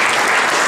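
Audience at a high school sports banquet applauding, a loud dense burst of many hands clapping at once, brief and continuous.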